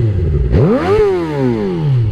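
A motorcycle engine revs up sharply and then winds back down in one loud, close rev that rises and falls across about two seconds, with a faint clatter underneath and no talking.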